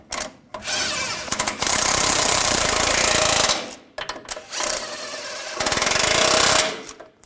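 Impact-style power tool tightening steering rack mounting bolts on a 2015-2018 GMC Sierra 1500 5.3L V8, two loud sustained rattling bursts of several seconds each with brief trigger blips between, close up.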